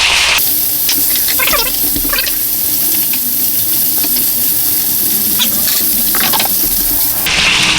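A continuous hissing cooking oil spray onto food in a GoWISE USA air fryer lasts several seconds at close range, steady and loud, with brief pauses at the start and end.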